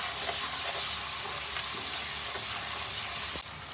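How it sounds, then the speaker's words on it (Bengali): Ginger-garlic paste sizzles steadily in a hot pan for doi lonka chicken, with light scraping stirs and occasional small clicks over a close, even hiss. "আদা বাটা দিলাম, দিয়ে একটু ভালো করে নেড়ে নেব।"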